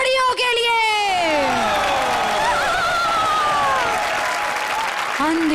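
Loud studio audience applause with cheering and whoops on a comedy show stage, continuous and dense throughout, with voices shouting over the clapping.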